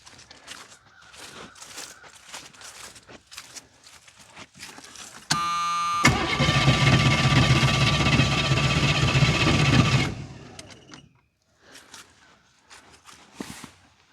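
Autogen 4500 amp portable jumpstarter's small gas engine, with breather removed, starting and running loud and steady for about four seconds before cutting out, surrounded by quieter handling noises.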